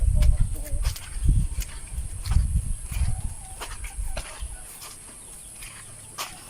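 Chickens cluck in short bursts nearby, with soft bird calls and farmyard noise, tapering off to quiet background toward the end.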